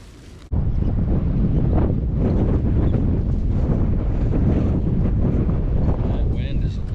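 Strong, fierce wind buffets a microphone outdoors at a truck campsite near the water, making a loud, continuous roaring rumble that starts suddenly and holds steady throughout.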